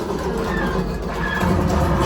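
A train rumbles steadily in a Mario and Luigi game, a heavy continuous mechanical roar with a deep low-end drone and no break in level.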